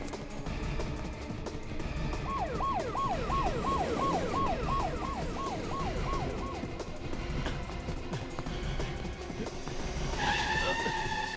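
A car speeds off in a police chase in a Hindi crime drama, tyres screeching and engine roaring while a wailing siren rises and falls, ending in a sharp skid.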